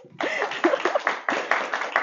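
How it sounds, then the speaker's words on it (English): A youth church gathering clapping briefly, with a run of quick claps that sounds fairly faint and thin. "Yes, clap for my brother."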